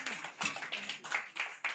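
An audience claps at a conference event, a short burst of scattered, uneven handclaps at moderate volume, mixed with faint crowd murmur.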